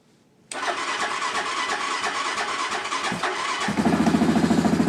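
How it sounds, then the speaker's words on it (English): A Yamaha Grizzly 700 ATV cranks and catches on a cold start after a short quiet moment, then runs loudly and close before settling into a rhythmic, pulsing idle. "we're going to do a Yamaha Grizzly 700 cold start and joyride."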